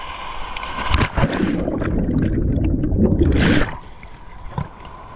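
A person jumps into a village river swimming hole, giving a loud close splash and churning water for a few seconds before it quiets, with a brief smaller splash after.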